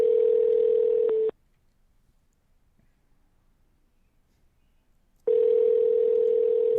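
A telephone ringback tone sounds while calling someone, two long, steady, clear tones separated by about four seconds of near silence, close and alone with no talking over it.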